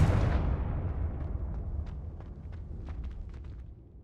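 Spell explosions from Bombarda and Confringo in the video game Hogwarts Legacy start with a loud, deep boom. A long rumbling decay follows, with scattered debris crackles and small impacts as it fades.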